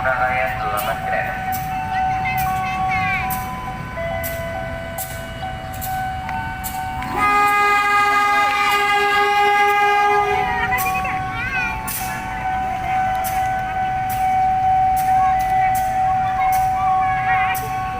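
A long cargo train rumbles steadily through Pasar Senen station with repeated clanks of passing wagons and a sustained horn blast partway through, loud and close, while people talk nearby.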